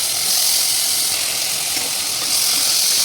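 Mutton pieces hitting a hot pan of oil set off a steady, loud sizzle, a dense hissing wash that keeps going the whole time with no talk over it.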